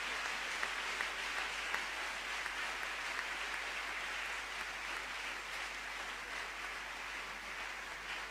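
Audience at a pastors' gathering in Côte d'Ivoire applauding to welcome the Prime Minister, steady sustained clapping from a large room throughout, moderately distant and even.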